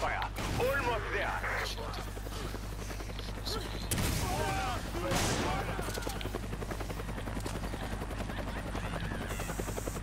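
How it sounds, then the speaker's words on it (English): Rapid bursts of gunfire in Resident Evil 5 rattle over a steady helicopter drone, with a voice talking over the noisy game action. "I can hear gunfire."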